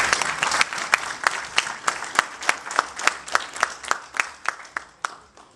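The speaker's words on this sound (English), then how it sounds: "Let us please give a round of applause for Samir's grandmother who is here with us" An audience at a graduation party applauds in a hall, with some claps standing out in a loose, regular rhythm as the sound slowly fades. The applause is moderately close and heard without talk.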